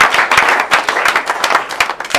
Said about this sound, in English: A round of applause again for us.